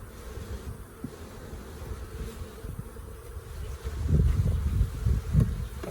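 Honeybees buzzing during a large beehive inspection, a dense, continuous low hum of many bees close by, swelling louder toward the end as the colony is disturbed, with no talk.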